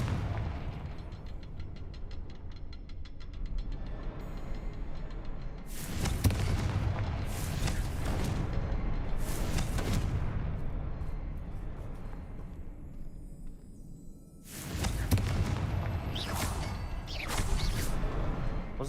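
Confringo spell blasts in Hogwarts Legacy, heavy booming explosions that come in two bursts of several hits each over a low background rumble.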